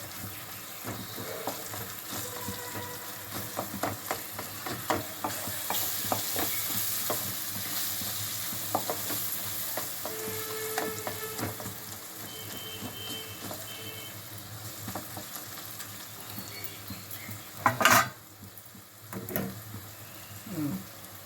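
Tomatoes and onions sizzle and fry in oil while being stirred for an egg masala curry, with steady frying hiss and repeated scraping stirs throughout and a brief louder clatter near the end.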